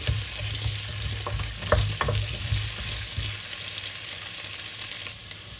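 Potatoes and carrots fry in hot oil with a steady, close sizzle, broken by a few sharp clinks and stirring scrapes early on before the hiss settles.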